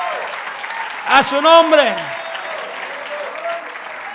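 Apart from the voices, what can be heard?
church congregation applauding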